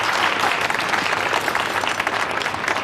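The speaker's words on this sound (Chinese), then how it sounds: "鼓掌。" Studio audience at a jewellery design competition applauding in a dense, steady burst of clapping, loud and close, with no talk over it.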